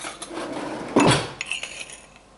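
A spoon scrapes and clinks against a bowl as sugar is added for coleslaw, a single brief clatter in a quiet kitchen.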